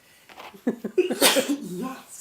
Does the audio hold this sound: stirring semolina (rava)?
no